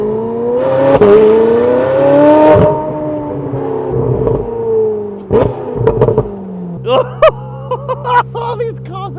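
A hypercar with a BC custom exhaust and Gintani tune revs up with a rising engine whine, then settles into a low idle broken by sharp crackles and pops.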